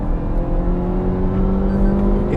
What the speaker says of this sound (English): It's a motor that likes to rev, and it's a motor that you will enjoy revving out.